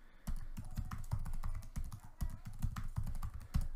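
Quick keystrokes on a computer keyboard as a password is entered, a steady run of close, crisp taps in uneven rhythm with no talking.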